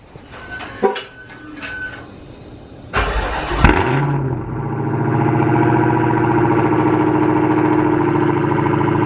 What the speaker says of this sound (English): I'm gonna give y'all a cold start